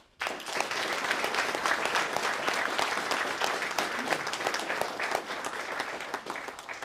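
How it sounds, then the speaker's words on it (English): A crowd applauds at a Florida Tech Army ROTC commissioning ceremony, bursting in sharply and holding a full, dense wash of clapping that stays strong to the end. "let's give those people a round of applause"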